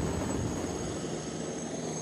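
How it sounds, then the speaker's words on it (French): A Tigre military helicopter hovers overhead during an outdoor special forces hostage rescue demonstration in Paris, producing a steady, loud rotor and engine drone with no break. "Franck Genozo, vous êtes toujours à bord de l'hélicoptère Tigre"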